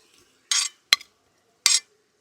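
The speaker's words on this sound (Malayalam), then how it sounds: "ചതച്ച് വെച്ചേക്കുന്ന ഇഞ്ചിയും വെളുത്തുള്ളിയും ഇട്ട് കൊടുക്കാം പച്ചമുളക്" Crushed ginger, garlic and green chilli dropped into a beef biryani pan, three short scraping and clinking bursts with a brief metallic tap between them, close and clear over near silence, no voices.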